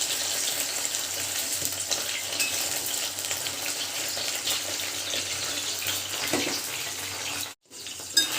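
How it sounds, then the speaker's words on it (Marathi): Eggplants frying in oil until brown give a steady close sizzle with a soft crackle throughout and a brief cut-out near the end. "आता ही वांगी तेलामध्ये मस्तपैकी ब्राऊन होईपर्यंत आपल्याला अशी"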